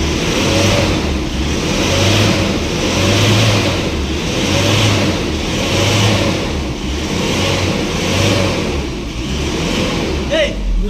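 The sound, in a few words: Isuzu Alterra engine starting and running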